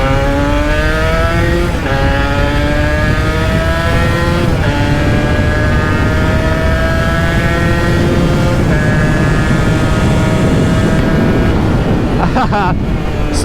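Two-stroke Aprilia motorcycle accelerating hard in second gear, a loud continuous high-pitched engine wail climbing in pitch with several gear-like steps, under heavy wind rush.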